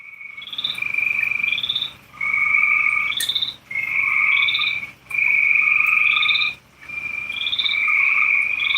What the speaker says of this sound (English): Boy, the frogs are going nuts tonight.